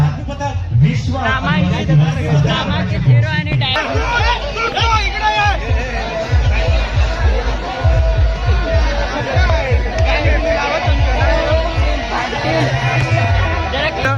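Dense crowd babble fills the air at an outdoor tribal day procession in Harsul, with many overlapping voices close and far, steady throughout.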